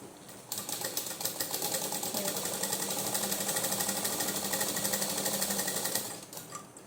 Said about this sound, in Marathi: आता आपल्या ह्या पार्टला शिलाई मारून घेऊया.